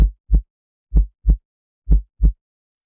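A deep synthesized heartbeat thumping in paired pulses, three double beats in a row, saturated and boomy with a slightly gritty edge, no voices.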